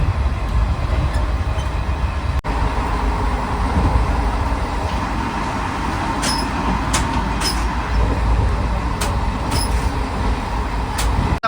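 The Pamani Express from Tirupati toward Arunachalam runs at about 110 km/h, a steady, dense rumble of wheels and carriage noise filling the whole stretch, with a few brief high clicks over the top.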